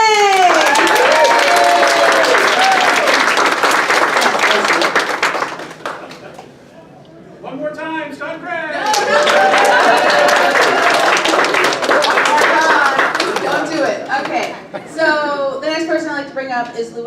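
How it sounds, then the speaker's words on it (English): A crowd at an anime convention opening ceremony claps loudly, mixed with whooping and cheering voices. The noise dips briefly partway through, then swells again. "clap again for Scott and Greg"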